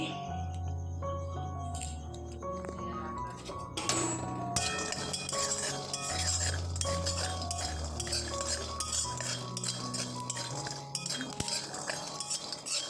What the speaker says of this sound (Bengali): বাদামগুলো একটু ভেজে নিচ্ছি